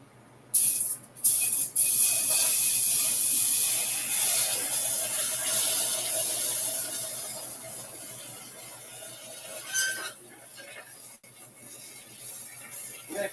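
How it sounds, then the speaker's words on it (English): Vegetable broth hits a hot pan with a sudden loud sizzle and hiss that settles into a steady, gradually fading simmer, with a couple of brief clatters near the end. "So we're going to put a little bit of vegetable broth."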